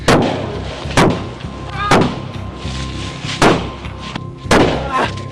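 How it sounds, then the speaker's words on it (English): Five loud, sharp gunshots ring out during a police encounter, spaced roughly a second apart with a steady background rumble between the blasts. "Shots are fired."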